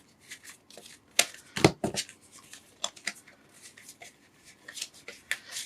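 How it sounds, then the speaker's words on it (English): Rapid riffling and flicking of new, slightly stuck-together oracle cards, several quick bursts of papery shuffling close by, with a louder ruffle near the middle. "Now I should be able to shuffle them."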